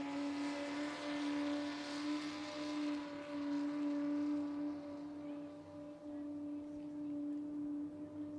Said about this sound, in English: You can hear a very distinct difference between the engine of Dustin Daly and the other 2